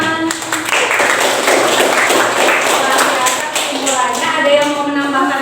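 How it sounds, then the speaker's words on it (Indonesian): A group applauds after a presentation in a meeting or classroom, giving a dense, steady patter of clapping at close range with a few voices mixed in. "Tepuk tangan."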